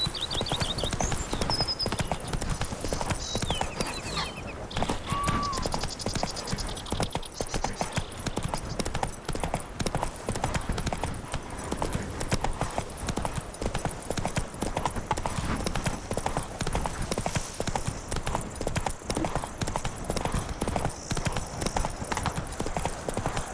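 Hooves of Roach, the horse in The Witcher 3: Blood and Wine, clip-clop at a steady galloping rhythm throughout, close and continuous, with a brief whinny early on and faint game ambience beneath.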